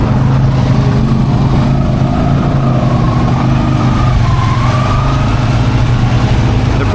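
A Pioneer 500 side-by-side in two-wheel drive and second gear drones loudly and continuously from close range, its engine holding a steady mid-pitched hum with slight rises in revs and constant rumble.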